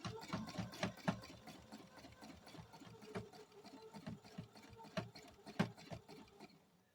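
A sewing machine stitches fabric for free motion quilting, its quiet rapid mechanical chatter running steadily and pulsing as the fabric is moved, with no talking.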